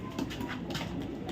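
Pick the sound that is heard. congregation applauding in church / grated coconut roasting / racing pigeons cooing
racing pigeons cooing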